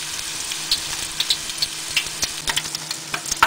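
Chicken toast deep fries in hot oil, a steady close sizzle with scattered sharp pops and crackles throughout.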